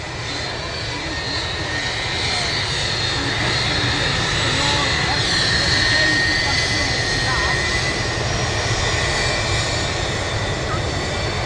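An Icelandair Boeing 757-200 taxis at Manchester Airport, its jet engines giving a steady, loud roar and whine throughout, with voices talking over it.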